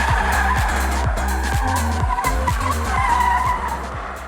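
A front-wheel-drive car drifts on a closed track, tires squealing in a loud sustained skid over a deep, close engine roar with repeated rhythmic pulses.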